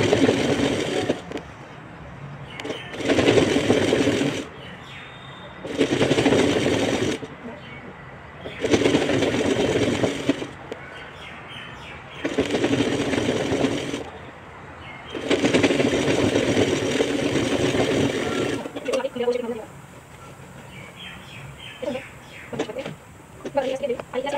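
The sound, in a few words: sewing machine stitching garment bottom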